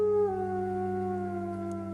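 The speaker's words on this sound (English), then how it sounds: "We hear this huge sound, like the howling of dogs." Wolves howl in a sustained, tonal call whose pitch drops and then holds, a single clear howl heard alone without talk.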